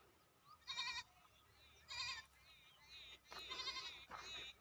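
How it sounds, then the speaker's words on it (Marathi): Goats bleat in three or four distinct, fairly close calls separated by short pauses, against a quiet rural background near a farm home. "शेळ्या"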